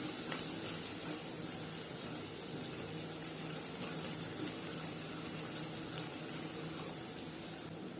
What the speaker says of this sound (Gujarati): મીઠું, ધાણા જીરું પાવડર નાખીને આપણે ફરીથી એકવાર હલાવી લઈશું.